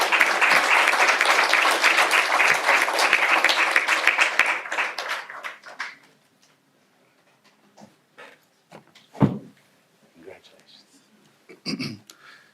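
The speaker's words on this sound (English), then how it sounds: "How about an applause for that group of students?" An audience at a school board meeting applauds a group of students with loud, dense clapping for about five seconds that fades out, followed by quiet room noise, a bump and scattered voices.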